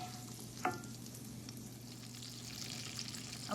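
Seared fish frying in a pan with a simple lemon butter sauce, a steady close sizzle with a brief scrape or stir partway through, no voices.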